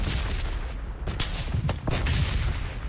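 Gunshots in a PUBG-style battle royale match on the Miramar map, a few sharp cracks and short bursts over steady game background, no talking over them.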